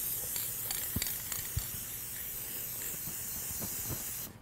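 Clear acrylic lacquer is sprayed onto a fishing lure, a soft continuous aerosol hiss that runs steadily at low level with a few faint knocks, cutting off just before the end.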